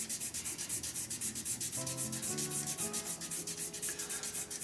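Sandpaper rubs against a spinning resin shaving brush handle on a lathe, giving a close, pulsing scratchy hiss with quick regular strokes, joined midway by a faint tonal hum.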